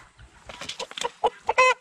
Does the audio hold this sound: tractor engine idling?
no